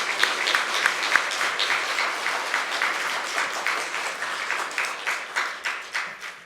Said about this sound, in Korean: 우리 크게 한번 박수 한번 더 합시다.